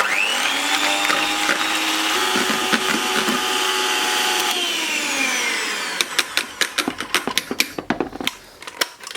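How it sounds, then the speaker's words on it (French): Electric whisk beating egg whites in a large bowl, a loud steady motor whine that stops and gives way to a rapid series of sharp taps and knocks near the end. "Et ici, on va venir monter les blancs en neige."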